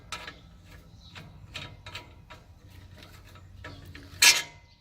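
Metal hitch pin on the tow bar of a Power King chipper shredder being turned and worked loose, giving a run of close ratcheting clicks and scrapes, ending in a sharp metallic clink as it pulls free.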